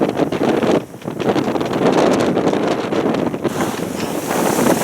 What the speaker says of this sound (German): da geniessen wir es, das Segeln bei diesem starken Wind